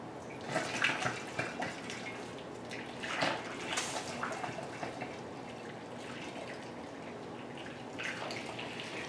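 Superheated liquid for brewing mead pours steadily into a jug with a watery, splashing rush, close by, rising in a few louder surges as it fills.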